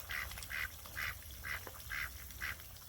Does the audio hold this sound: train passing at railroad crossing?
no